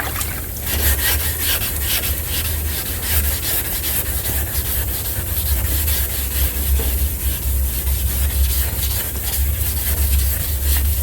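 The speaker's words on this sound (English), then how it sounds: "We still need to sand it a little bit more" A sanding block rubs back and forth over wet car body work, giving a steady, loud, continuous gritty scraping close up with no break and no talk.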